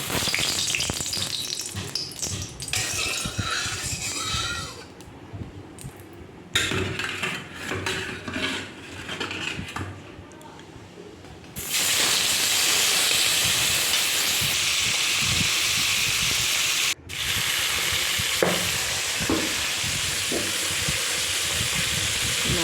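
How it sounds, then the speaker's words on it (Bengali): Bhola fish fries in hot oil in a wok, giving a loud, steady sizzle that swells into a harsh, constant crackle once the fish is added, with no talking. "আমি দেখো কড়াই তেল গরম হয়ে গেছে এবার কিন্তু আমি মাছটা ভেজে নেব"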